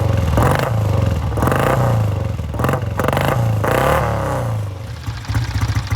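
A 1967 Triumph T90 350cc motorcycle with its original engine revs repeatedly in close, loud throaty bursts, the exhaust note rising and falling in several surges over a steady idle.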